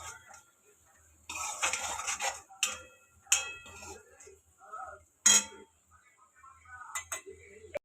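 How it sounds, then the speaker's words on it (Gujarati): Spices being sautéed and stirred in a kadai with red chilli and coriander-cumin powder for a Gujarati dish; intermittent metallic scrapes and clinks of a spoon against the pan come in short bursts amid quieter gaps. "પછી મસાલાને સરસ રીતે સાંતળી લઈશું."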